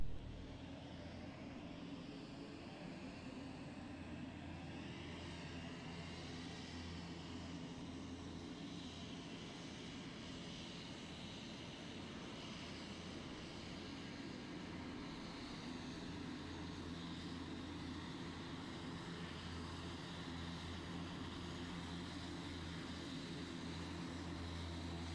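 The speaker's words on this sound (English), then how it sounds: "So there's a big airplane coming in here now." A steady, continuous engine drone from a large airplane coming in close by at low altitude, fairly loud and unbroken for the whole stretch.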